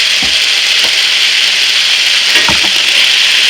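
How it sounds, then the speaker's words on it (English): Sliced steak and onions fry on a hot griddle for Philly cheesesteak, a loud, dense, continuous sizzle broken by a few dull spatula scrapes and knocks, with no speech. "I'm going to keep cooking this until the onions are tender and the steak is completely done"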